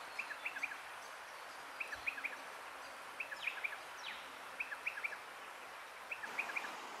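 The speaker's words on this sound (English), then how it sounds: "I can hear a number of birds in this area around the water." Birds call in Australian bush near water, small groups of quick, high, chirping notes repeating about once a second over faint, steady background hiss.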